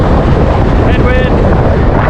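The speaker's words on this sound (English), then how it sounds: "Headwind," Headwind buffets the microphone of a cyclist riding in St. Louis County, a loud, steady, rumbling roar that fills the whole moment.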